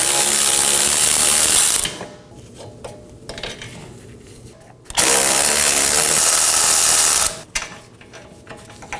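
Ratchet wrench loosening the 18mm bolts that hold the rear wheel bearing and hub assembly on a 2018-2024 Chevrolet Equinox: two loud bursts of rapid clicking, each lasting a couple of seconds, separated by quieter metallic handling.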